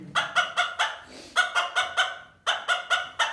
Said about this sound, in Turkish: Tavuklarımız da bunlar.